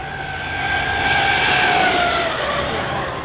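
An ARRMA Kraton EXB RC car with a Max6 1650kv motor and 19T pinion speeds past, its high motor whine rising and then falling as it passes, loud and steady for a few seconds.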